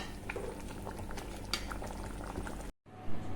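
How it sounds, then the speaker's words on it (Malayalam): Rice for payasam bubbling in a cooking pot, a steady close simmering burble with a few light clinks, cut by a short silent break near the end. "അരി നന്നായിട്ട് ഇങ്ങനെ തിളച്ച് വരാൻ തുടങ്ങുന്നുണ്ട്."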